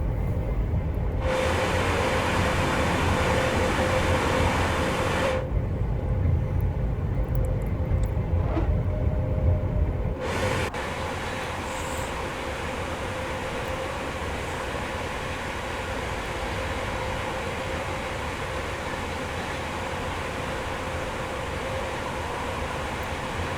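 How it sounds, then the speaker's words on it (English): Overground train running in the Train Sim World video game, a steady low rumble with rail noise that drops to a quieter, even drone partway through. "Overground train on the way up."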